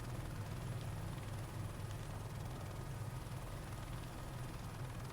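Airbus H130 helicopter engine in Microsoft Flight Simulator, a steady droning turbine and rotor hum, even and continuous, faint and distant in the mix.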